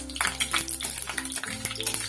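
Nigella seeds sizzling in hot mustard oil in a pan, a brief crackling fry with quick pops over a low steady hiss, close and fairly loud.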